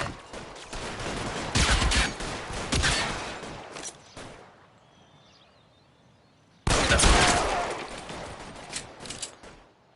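Gunfire in the video game L.A. Noire, several loud sharp shots in a short burst, a near-silent pause, then another loud shot with a fading tail.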